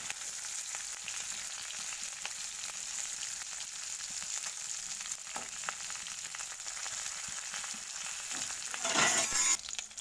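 Singi fish frying slowly in a pan, a low, steady sizzle running throughout, with a brief louder crackle and stir near the end.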